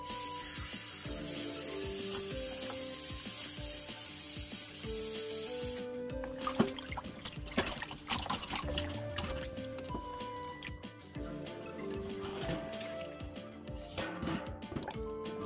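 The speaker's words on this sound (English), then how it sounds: "And then we're just gonna run some more tap water." Tap water running over a raw turkey in a kitchen sink, a steady close hiss of spray and splashing, joined by clattering and rubbing as the bird is handled.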